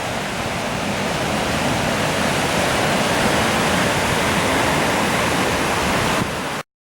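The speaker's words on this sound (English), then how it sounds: "I suspect it's just because the wave intensity is so high" Strong, heavy ocean surf at a beach near Concón, Chile, a dense continuous roar of crashing waves, loud and steady with no voices, before cutting off abruptly.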